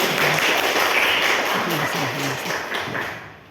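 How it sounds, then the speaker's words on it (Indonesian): A crowd applauds a team at a school quiz competition semifinal, steady clapping that fades out toward the end, with a voice faintly audible underneath. "Beri tepuk tangan untuk Regu."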